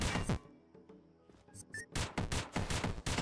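Handgun fire in the video game Dungreed comes in rapid bursts of sharp, loud shots, clustered at the start and again through the second half, with a quieter gap in between.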